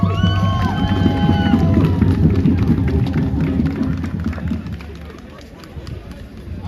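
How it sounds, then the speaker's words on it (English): A protest crowd in Manchester, rallying for Palestine and Iran, cheers and shouts in a loud, sustained roar that fades slightly toward the end, with voices mixed in. "Give a big round of applause."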